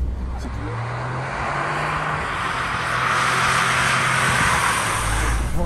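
A Toyota Yaris GR four-wheel-drive hatchback revs hard under throttle while sliding, its engine a loud, steady close roar that swells slightly midway with no talk over it.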